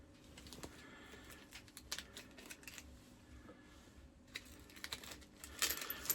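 Small bolts and washers from a generator repair are dropped into little bags, making faint clusters of light metallic clinks and rattles in short bursts, with quiet pauses between them.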